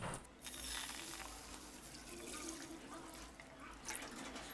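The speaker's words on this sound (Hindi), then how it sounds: "पैन में मैं 1 किलो दूध डाल दूंगी।" One kilo of milk poured into a pan for rabri is a faint, continuous liquid trickle and splash that runs steadily throughout, with a soft low hum underneath.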